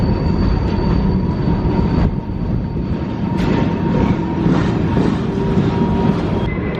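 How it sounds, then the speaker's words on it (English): A train rumbles past close by, heavy rolling wheel noise with metallic squeals and clanks over a continuous low roar. "there does appear to be a lot of trains coming right now"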